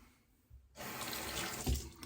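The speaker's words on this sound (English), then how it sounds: "Now we have hot water." A kitchen tap turns on and water gushes steadily into a sink, a full splashing rush after a brief quiet start.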